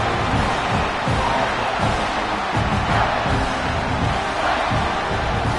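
A college football stadium crowd roars and cheers in a dense, continuous wash of voices during a third-down play, loud and sustained throughout.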